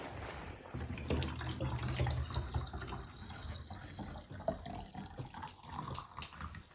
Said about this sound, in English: pour the hot water in the bottles